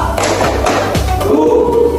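An elementary school class in an Indonesian language lesson claps a counted 'tepuk' pattern, sharp hand claps landing in a quick, steady rhythm of several beats over a close, roomy background.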